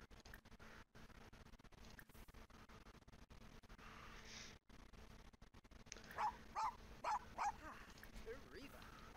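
Dog in The Sims 4 Pets video game, a few short barks or yips in a quick series near the end, following a stretch of quiet background sound with brief clicks.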